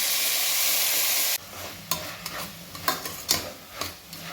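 Chopped onion, tomato and curry leaves drop into hot oil, where a loud hiss gives way to quieter sizzling with repeated scraping clatters as the spoon stirs them around.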